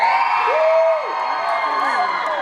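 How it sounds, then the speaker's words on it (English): A large crowd cheers and whoops loudly, a dense roar of many voices with a few rising shouts standing out. "Give us a cheer if you prefer"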